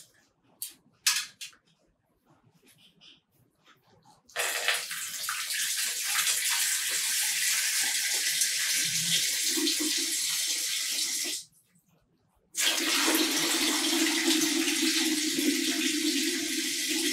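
Water pours into a bowl during a magic trick, with a few quiet clicks and handling taps first, then two sustained, even streams of splashing water split by a brief silent pause.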